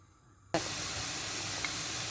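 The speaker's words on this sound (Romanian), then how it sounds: "Voi pune totul la prăjit, iar crembuștii le voi pune să fiarbă." Mushrooms and eggs fry in hot oil in a pan for an English breakfast, with a loud, steady sizzle that starts suddenly after a quiet half second and continues unbroken.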